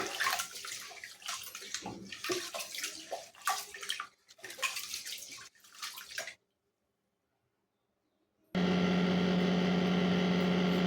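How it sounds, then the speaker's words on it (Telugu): Rice is rinsed by hand in water in a pot before going into a pressure cooker, giving irregular sloshing and swishing bursts. A silent pause follows, then a steady electrical hum. "బియ్యం ఇలా శుభ్రంగా కడుక్కోవాలి రెండోసారి కడుక్కోవాలి"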